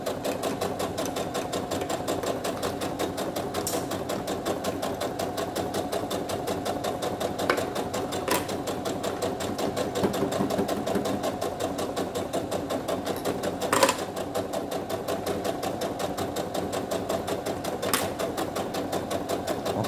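A sewing machine runs steadily for a long stretch, stitching the seam of a fabric drawstring pouch from bottom to top with a fast, even needle rhythm, close up and with no talk over it.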